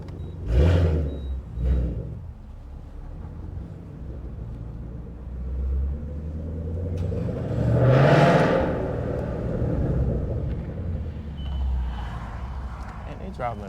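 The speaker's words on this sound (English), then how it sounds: "Driving fast out of here." Mustang GT pulling away hard, its engine roaring up to a loud rising rev in the middle after a few earlier bursts, with someone talking over parts of it.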